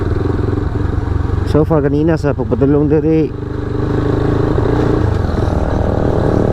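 A Motorstar Z200x motorcycle drones steadily on a low-speed uphill ride near Kapatagan, Davao del Sur. The loud engine hum runs throughout under someone talking close to the microphone.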